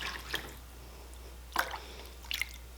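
Water drips and splashes lightly from a dye pot in three short, faint bursts, with quiet gaps between them.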